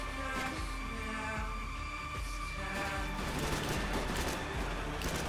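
Gunfire from below during a Max Payne 3 firefight, with dense, continuous rattling shots and bursts layered over music-like tones and game ambience at a steady moderate level.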